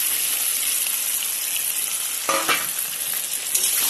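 Potatoes and taro chunks fry in a hot pan with salt and turmeric, a steady broad sizzle with a brief louder burst of crackling and stirring midway; no voices.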